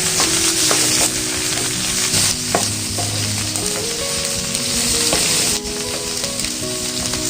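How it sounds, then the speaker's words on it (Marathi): Sliced onion and garlic fry loudly in hot oil, a dense, continuous close sizzle with occasional stirring clicks and scrapes, no voices present. "उभा चिरलेला कांदा टाकते। तो सुद्धा तेलामध्ये छानपैकी परतून घेते।"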